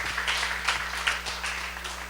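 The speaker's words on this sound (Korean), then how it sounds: "박수 부탁드릴게요" An audience claps at a live motivational talk, a short burst of scattered applause filling the room over a steady low hum, without distinct speech.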